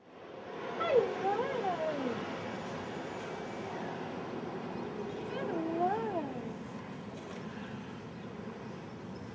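A tailless cat in Castletown, Isle of Man, gives two drawn-out meows about five seconds apart, close and moderately loud over a steady low background hum.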